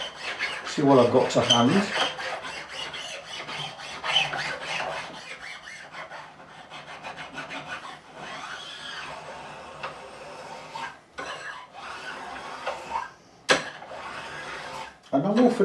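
Rasping and sanding strokes work the edges of a Warwick Corvette Double Buck bass neck, a steady scratchy rub running close and continuous through most of the stretch, with someone talking briefly over the start.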